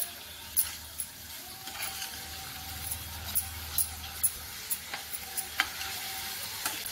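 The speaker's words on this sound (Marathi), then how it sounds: "मसाला छान आपण फ्राय करून घेतो" Potatoes and homemade masala fry in a pan, with a quiet sizzle under repeated light spoon scrapes and taps that grow more frequent toward the end. Fairly close and soft, with no voices.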